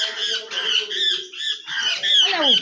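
A trapped sparrow squawks loudly and repeatedly up close, shrill chirps coming in rapid bursts with short gaps in between.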